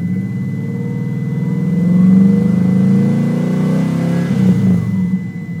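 A 1993 Subaru WRX GC8 idles and revs through headers, a 3-inch downpipe and 3-inch exhaust with resonator and Megan Racing muffler, a throaty steady engine drone that swells mid-clip then settles, close and alone.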